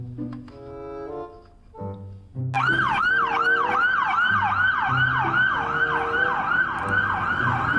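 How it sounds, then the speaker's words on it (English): A police car siren bursts in after a few soft tonal notes, then holds a loud, rapid, steady wail that cycles up and down for the rest of the stretch. "Police car."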